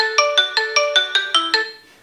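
Phone ringing in find-phone mode triggered from a Xiaomi Mi Watch Lite: eight quick, evenly spaced bright electronic beeps, close and clear, the last one trailing off.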